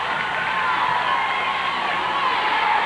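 A high school basketball crowd for Williamsburg rises and cheers in a 1994–95 semifinal game, a continuous loud roar of voices that fills the arena.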